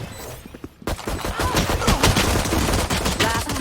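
Valorant in-game gunfire during a 3v3 tournament match: after a quiet start, loud rapid volleys of shots crack out in dense, overlapping bursts that continue to the end.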